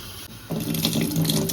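Water runs steadily from a tap into a sink, growing louder, as it is poured off soaked odiyal flour while preparing Jaffna-style odiyal kool.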